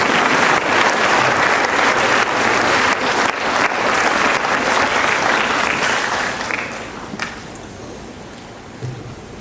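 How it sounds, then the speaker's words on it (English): A crowd claps loudly and steadily, the applause thinning out and fading toward the end, with a few last scattered claps. "let's clap for all the children who are sitting here"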